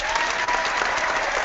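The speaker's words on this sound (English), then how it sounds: "I get applauded for knowing the date these days." Loud, dense applause rolls on without a pause through a short burst, a bright, even clatter of many hands close to the listener.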